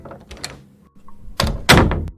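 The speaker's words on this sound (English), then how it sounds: "I heard the front door open and close." A front door in a home opens and closes: a soft click and shuffle come first, then two close, solid thunks of the door swinging shut, with no voices.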